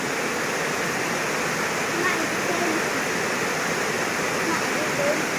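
Heavy rain pours down in a dense, unbroken hiss that stays loud and even from start to finish, with a voice talking over it.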